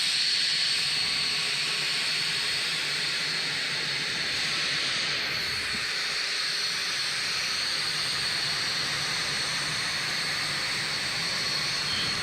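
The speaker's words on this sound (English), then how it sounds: "The engines are going to be shutting down on XB-1 for the final time" XB-1 supersonic jet engines running on the ground, a steady distant hissing roar with a high whine, continuous and even throughout with no voices.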